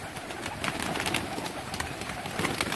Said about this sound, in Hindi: ये सारे कबूतर हैं जी